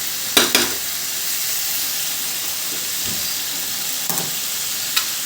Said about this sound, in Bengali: তাই একটু বেশি সময় ধরে এটাকে আমি সাঁতলে নেব